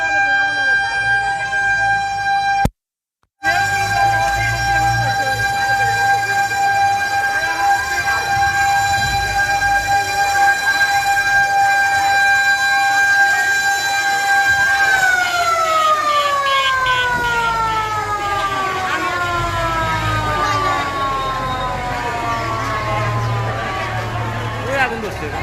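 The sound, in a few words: fire service vehicle sirens at hospital fire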